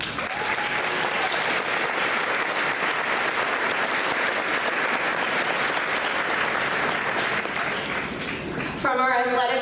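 Sustained, dense applause from an audience at a Pleasantdale Middle School eighth grade graduation ceremony, steady and loud for most of the clip before cutting off abruptly near the end.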